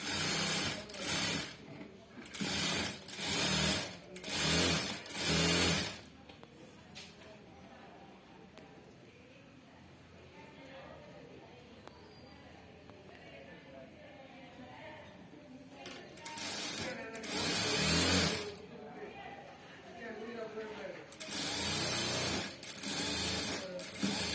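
A sewing machine stitches a blouse in bursts, several short runs at the start and a couple more near the end, with a quiet stretch of handling noise between them.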